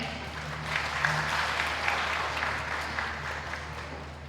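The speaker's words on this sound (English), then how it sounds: "Again, a big round of applause for everyone, please." An audience at an entrepreneurial gala at Lahore College for Women University applauds project teams, a sustained, even burst of many hands clapping in a large room.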